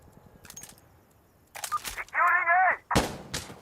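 Suppressed gunfire from a wrapped-suppressor rifle in Insurgency Sandstorm, a few sharp muffled cracks arriving close, mixed with a tonal in-game alert and other game sounds.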